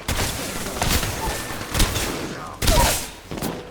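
Bursts of gunfire in the battle-royale video game Apex Legends, several loud volleys of shots separated by brief pauses, with game voice lines faintly in the mix.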